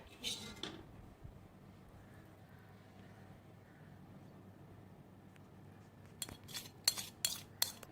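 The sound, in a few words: spoon scraping a pot of chicken biryani curry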